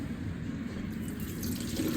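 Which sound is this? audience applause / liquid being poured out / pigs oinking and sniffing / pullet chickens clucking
liquid being poured out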